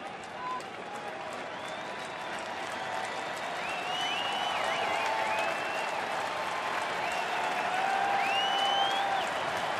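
Baseball stadium crowd cheering and clapping at a Houston at Milwaukee game, with Greinke pitching, a broad sustained roar that slowly builds, with scattered whistles and shouts rising above it and a commentator talking underneath.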